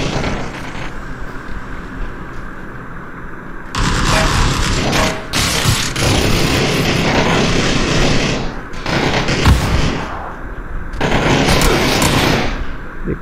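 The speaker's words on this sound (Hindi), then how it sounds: "एक तो इधर पड़ती कहाँ से वो भी गोलियां समझ नहीं आता गेम में।" Heavy, loud gunfire from the video game Sea of Thieves comes in dense, sustained bursts with brief lulls between them, with no talking over it.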